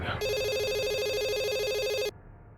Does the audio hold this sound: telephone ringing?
yes